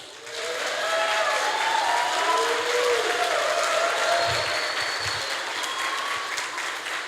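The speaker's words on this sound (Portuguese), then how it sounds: "Se você quer aplaudir Jesus," Church congregation applauding steadily for several seconds, a dense, even wash of clapping filling a large room, with faint low music or voices beneath and a slight fade toward the end.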